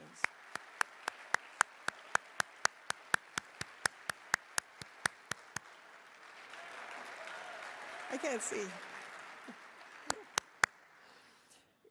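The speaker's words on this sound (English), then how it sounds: "I can only tell by the applause" Audience applause at a 2024 honors and awards ceremony, a rhythmic run of hand claps that fades out, with someone speaking over the tail and a few more claps after.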